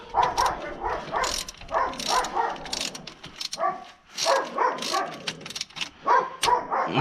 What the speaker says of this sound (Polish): Jak widzicie, pies ujada.